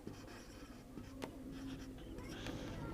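Chalk or pen scratches out a star symbol on a writing surface: short, faint strokes in quick succession with a few sharper taps, quiet and close.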